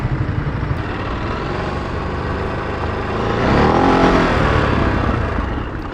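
Ducati DesertX adventure motorcycle climbing a hill in first gear during off-road rally training, its engine droning steadily and rising in a gentle surge partway through, with wind buffeting throughout.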